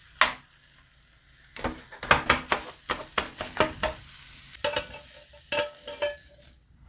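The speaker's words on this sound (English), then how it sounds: "And now we're going to fry our egg." An egg fries in oil in a regular pot while a utensil stirs and scrapes, giving a run of loud rhythmic clacks and scrapes over a bright sizzle, close and without talking.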